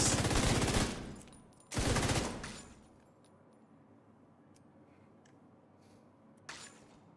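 Gunfire in a video game while aiming for headshots: two loud bursts of rapid automatic fire, each about a second long, then a short faint shot near the end, with no talk.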